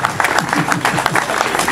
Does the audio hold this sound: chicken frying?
no